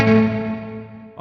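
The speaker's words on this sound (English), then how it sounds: "there is something strange on the reverb" A Fractal FM3/FM9 guitar effects unit rings out with a sustained, harmonically rich reverb tail that slowly decays over about a second, followed by a brief new burst of sound at the end.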